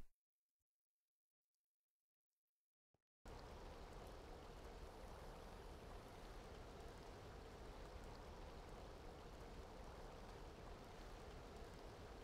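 Steady rain pouring in The Sims 2 Castaway, a dense, even hiss that cuts in after about three seconds of near silence and then holds at a constant level to the end.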